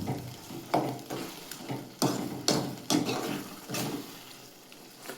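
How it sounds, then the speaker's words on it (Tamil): Oats stirred and tossed in a cooking pan, a series of scraping, rustling spoon strokes over a light sizzle, close and fairly quiet, repeating irregularly about every half second to second. "போட்டப்புறம் நல்லா பரட்டி விட்டுக்கோங்க"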